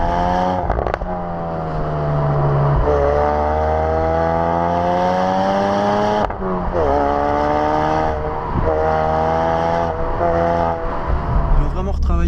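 Ford Focus RS four-cylinder turbo engine revving, a loud continuous drone whose pitch sweeps up and down through several throttle rises, with brief dips between pulls and a crackle near the end.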